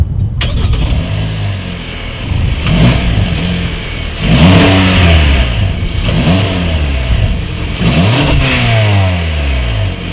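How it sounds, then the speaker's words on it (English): A 2017 Hyundai Sonata Sport with a dual exhaust starts up, then gets several loud, close revs that rise and fall one after another, settling back to idle between them. "Here is that exhaust clip."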